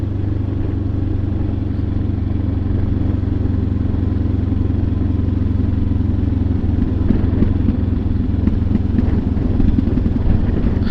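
A motorcycle exhaust rumbles steadily at idle, loud and close, with a deep, continuous throb and slight rises in intensity.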